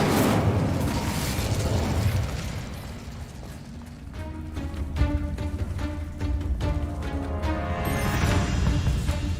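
Fiery spell explosions in the game Hogwarts Legacy, loud booming blasts and bursts layered over a steady rumbling background, with some tonal magical shimmer and ringing toward the end, no talking.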